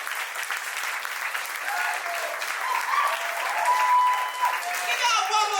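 Warm, continuous applause from the audience for poets at a poetry slam grand final, filling the room and swelling slightly, with voices and cheers mixed in.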